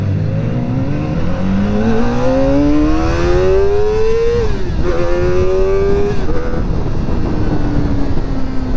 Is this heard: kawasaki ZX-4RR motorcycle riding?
yes